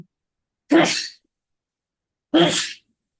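Two loud, close sneezes about a second and a half apart, each sharp and breathy, break an otherwise silent pause during an Indonesian religious text-reading class.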